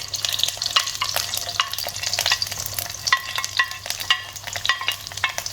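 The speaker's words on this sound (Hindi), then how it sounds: "इसके अंदर मैं सारे ड्राई फ्रूट फ्राई कर लूँगी" Dry fruits fry in a small amount of desi ghee over low heat, a soft sizzle broken by frequent scraping and stirring strokes of a spoon against the pan, close and uneven in rhythm.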